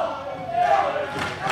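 Wrestling crowd at a two-out-of-three-falls tables match in a baseball facility, a dense roar of cheering and shouting that stays loud and steady throughout.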